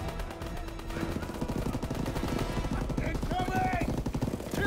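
Dense war-game gunfire fills the scene, with rapid machine-gun bursts and rifle shots crackling continuously and loudly, layered with battle noise and shouting voices.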